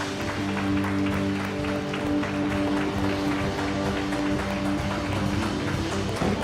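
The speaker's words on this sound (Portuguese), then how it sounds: "dê uma salva de palmas bem forte ao Senhor" Loud, sustained applause from a church congregation fills the whole stretch as a dense, steady roar of clapping, with steady held tones running beneath it.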